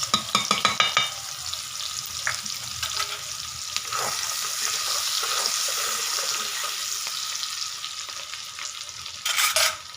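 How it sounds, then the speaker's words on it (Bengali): Chopped onion fries in hot oil with a steady close sizzle, stirred now and then with scraping and clinking of the utensil. "তেলের মধ্যে আমি দিয়ে দিচ্ছি কুচিয়ে রাখা পেঁয়াজ"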